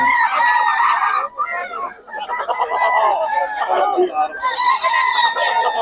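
A Raptor Sweater gamefowl rooster crows loudly and close, its strained, drawn-out calls repeating back to back with brief clucks between.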